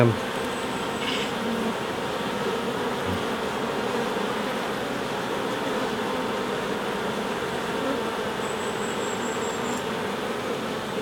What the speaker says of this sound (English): Them bees look pretty healthy to me. Quite busy.